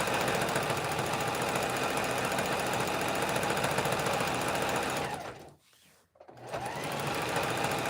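A sewing machine stitching a flat jelly roll rug runs loud and steady, its fast rhythmic whir close by, then stops briefly for about a second before starting up again.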